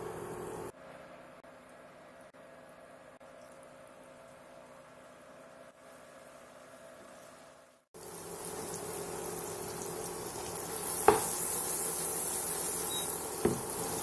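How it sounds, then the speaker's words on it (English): Paneer pieces fry in hot oil in a pan. A faint hum comes first, then a steady hissing sizzle with a couple of sharp pops and clinks. "Heat some oil in a pan. And fry the paneer pieces."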